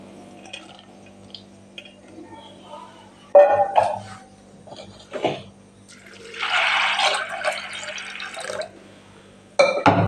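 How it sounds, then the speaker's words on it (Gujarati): Water pours into a pressure cooker holding boiled choli (black-eyed) beans and salt for a Kathiyawadi dry curry, a steady splashing fill running for a few seconds between clinks and handling noises close to the microphone. "હવે આપણે કુકરમાં લઈ લઈશું અને મીઠું ઉમેરી અને આપણે પાણી ઉમેરીને બાફા મૂકી દઈશું"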